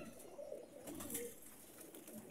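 Pigeons coo softly and faintly in a low, steady murmur, with no voices over it.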